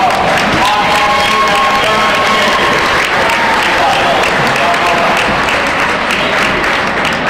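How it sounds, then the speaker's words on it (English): Loud, sustained crowd applause with some cheering in a high school boys' basketball gym, a steady wash of clapping at close range lasting the whole stretch. "Let's give a round of applause for 2012."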